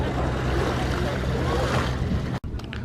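A Mersey ferry crossing the river at Liverpool, with a steady loud wash of water, engine rumble and wind buffeting the microphone throughout, broken by a brief dropout near the end.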